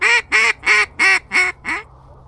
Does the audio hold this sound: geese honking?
yes